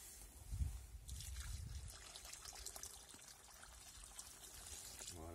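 Water trickles and gurgles softly as it is poured onto soil for planting squash, a faint, continuous close-up dribble.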